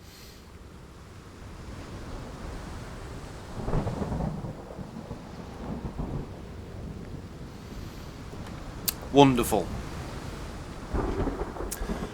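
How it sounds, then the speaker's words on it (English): A thunderstorm in the game Sherlock Holmes The Awakened, with low rumbles of thunder rolling in over steady rain and wind, one sharper crack standing out; someone briefly speaks once. "to the sound of a terrible storm"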